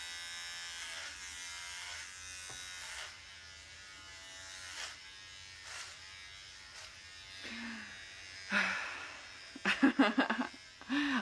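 Electric hair clippers, a year-old set, buzz steadily while shaving a head, a continuous close hum with brief louder bursts and some pulling near the end; a voice speaks faintly at times.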